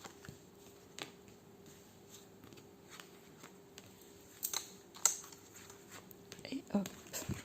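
Tarot cards being shuffled and laid out during a cross-spread reading, heard as soft, faint papery flicks and taps, with a few sharper snaps near the end.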